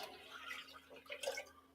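Two cups of water are poured into a cooking pot for a curry-spiced shrimp dish with peanut sauce, a faint, brief splashing trickle heard alone without talk.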